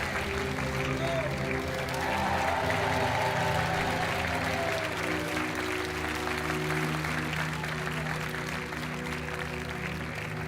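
A TV game show studio audience applauds steadily and loudly throughout, a dense wash of clapping with a host's voice speaking over it.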